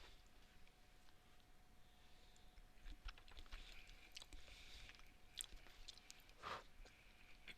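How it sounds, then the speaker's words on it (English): A person chewing food close to the microphone, with soft, irregular crunching bites over a quiet background. "Sorry about the noise I'm eating"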